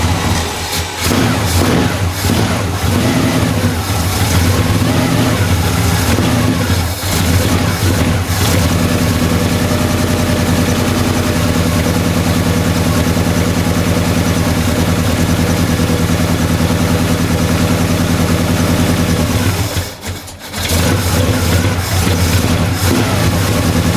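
A 1964 Ford Fairlane V8 cranks over, catches and settles into a steady, loud idle with a deep rumble that runs nearly throughout, briefly dipping near the end.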